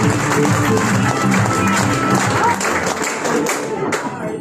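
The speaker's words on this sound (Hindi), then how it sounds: "इनके लिए भी जोरदार ताली" An audience at a company presentation claps heavily and continuously, dense and close. Voices talk over the applause, which softens slightly toward the end.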